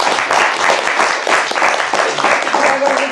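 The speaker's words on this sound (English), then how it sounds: "give a little round of applause to all of them" Loud, close applause from a group, continuous rapid clapping throughout, with a voice faintly heard near the end.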